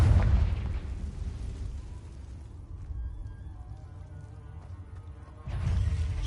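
Confringo spell blasts in Hogwarts Legacy inside a cave, a deep booming burst at the start that rumbles and fades, then another heavy low blast near the end.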